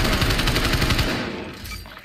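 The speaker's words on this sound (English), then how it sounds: "Fucking sniper rifle." Gunfire in the video game Call of Duty Black Ops Cold War rattles in rapid, loud, close repeated shots for about a second, then trails off into a fading echo with a final click.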